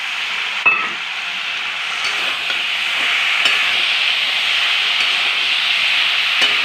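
Jackfruit pieces frying in oil with spice paste, a steady loud sizzle and hiss close up, broken by occasional scrapes of stirring.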